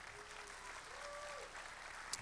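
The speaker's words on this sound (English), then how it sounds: "y'all give our students one more round of applause." A church congregation at a Sunday evening service gives the students a round of applause, heard as steady, fairly distant clapping with a faint tone and a sharp clap near the end.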